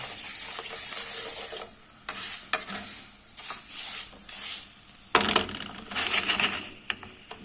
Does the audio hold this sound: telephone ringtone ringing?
no